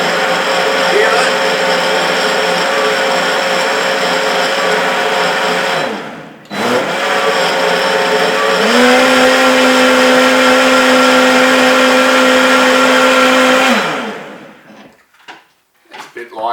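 A blender whirs loudly with a rough, rattling grind like loose bearings while making zucchini and cumin soup, running continuously, briefly dropping out, then restarting, its pitch rising before it winds down at the end.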